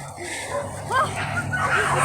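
A dog on a run yips and whimpers in short high bursts, close by, over a steady rumble of outdoor movement, with a person talking through much of it.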